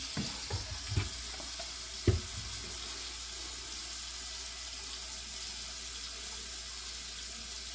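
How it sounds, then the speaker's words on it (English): A sink faucet runs water in a steady, even hiss from start to finish, close by, with a couple of light knocks near the beginning and no talking. "I'm going to turn this sink on and see how serious this is."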